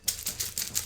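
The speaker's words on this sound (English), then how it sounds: "We shuffle it a little bit," Game discs for a Robin Hood board game shuffled inside a bag, producing a quick series of soft plastic clacks and rattles, close and fairly quiet, with no talking.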